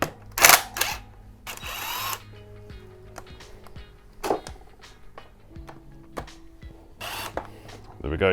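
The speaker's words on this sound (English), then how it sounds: "I'm going to be really lazy and just use this driver, so just gets it off nicely." A power driver on its slowest setting backs out a T30 Torx bolt on a BMW GS Adventure motorcycle, several short whirring bursts with pauses between them, close and clear, while someone talks.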